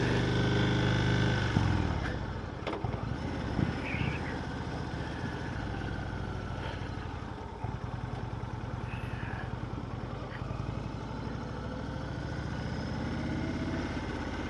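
A 2020 Indian Chief Darkhorse motorcycle engine idles steadily at close range, a continuous low rumble with a brief rev near the start, heard outdoors at a demo day.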